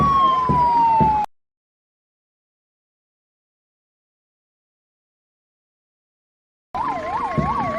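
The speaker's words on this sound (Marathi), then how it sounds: "आजच्या परेडमध्ये शासकीय वैद्यकीय महाविद्यालय व रुग्णालयाची रुग्णवाहिका सहभागी आहे." An ambulance of a government medical college and hospital sounds its wailing siren in a Republic Day parade; the loud, rising-and-falling siren plays for about a second, cuts to silence, then returns near the end.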